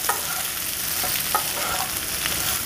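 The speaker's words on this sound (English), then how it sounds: "So you do want to give them a stir every now and then so that all the sides make contact with the hot pan." Spiced potatoes frying in a hot pan, stirred now and then, give a steady close sizzle with a few soft scraping stirs and no talk.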